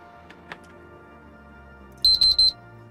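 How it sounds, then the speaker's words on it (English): A device with a broken buzzer and fried speaker gives three short, quiet beeps in quick succession, preceded by a couple of faint clicks against a near-silent background. "Oh, I just heard that beep."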